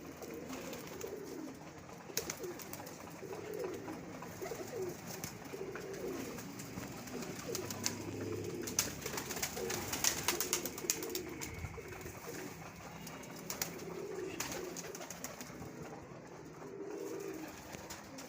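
Pigeons cooing softly in a loft, repeated low throaty coos rising and falling across the whole stretch, moderately distant, with faint rustles and knocks in the background.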